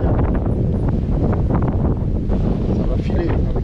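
Strong wind rushes and buffets the microphone on a sailing boat off Cape Verde, a continuous loud roar with faint rustling underneath and no clear voices.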